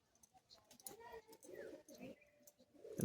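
Madrasi pigeons cooing softly in a loft, a few low coos mixed under intermittent nearby speech, ending with a louder close sound.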